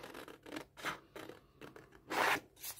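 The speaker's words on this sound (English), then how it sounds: "So I'll just go and cut it out." Scissors cutting out a paper pocket for a junk journal, heard as a series of close, quiet snips and rasping paper slices in an irregular rhythm with no talking.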